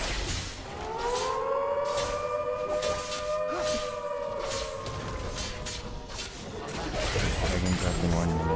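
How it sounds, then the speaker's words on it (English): Corki's siren alert in the League of Legends video game wails in long, repeated rising and falling tones, loud and insistent, sweeping through the whole stretch over a busy layer of game noise. "Every 1 minute, this Corki siren is killing my ears."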